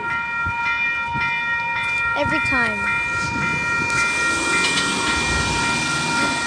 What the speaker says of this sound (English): we have our high-speed Oscar train passing platform number 2